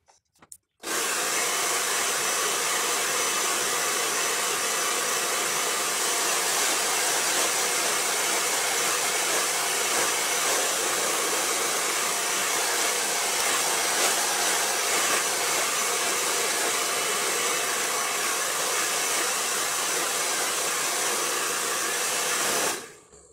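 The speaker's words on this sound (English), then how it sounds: "And now I'm going to start blow drying." A hair dryer blow-dries hair at home, switching on after a brief click and roaring loud and steady for about twenty seconds before cutting off, with no talking.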